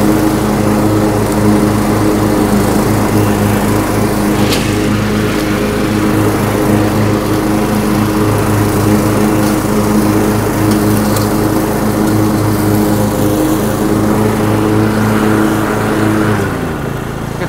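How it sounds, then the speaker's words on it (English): A Cub Cadet riding lawn mower runs with its engine holding a steady, loud, close drone throughout, with no talk over it. "I'm gonna lower the mower down a little bit."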